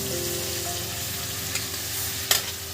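Garlic paste fries in a hot pan for a chicken kosha curry: a steady, close hiss of sizzling oil with a couple of brief scraping stirs, and no voices.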